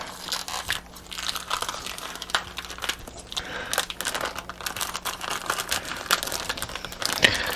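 Plastic packaging around a corned beef is cut and pulled open, giving close, continuous crinkling and crackling with sharper rustles throughout.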